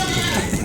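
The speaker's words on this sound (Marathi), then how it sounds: "आता तुमची शेळी कुठं वरडायली." A goat tethered at a village farmhouse lets out one brief, wavering bleat from some distance, heard over a rainy outdoor background.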